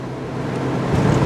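Steady road and engine rumble fills the cabin of a 2026 Mazda MX-5 Miata Club driving with the soft top up, a constant low drone with no talking.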